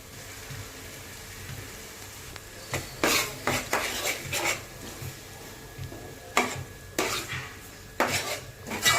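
A spoon scrapes and clatters in a metal pan as ground onion-tomato paste is stirred into a Tamil-style fish curry, with irregular knocks and scraping strokes over a low steady background.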